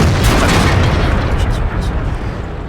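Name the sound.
tank cannon shot in World of Tanks video game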